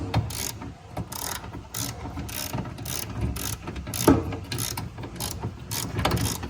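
Ratchet turning out a long 12mm bolt from a 1988-91 Honda Civic pedal assembly, a steady run of quick clicking strokes up close that carries on through the whole stretch without talk.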